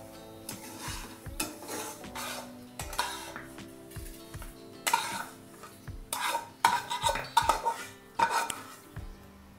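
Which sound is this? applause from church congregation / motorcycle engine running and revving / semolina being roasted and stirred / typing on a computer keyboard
semolina being roasted and stirred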